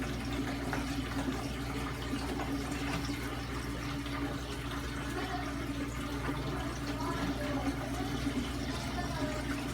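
Water siphoning out of a saltwater aquarium during a weekly water change, with a steady close rushing trickle and gurgle under a constant low hum of pumps, continuous throughout.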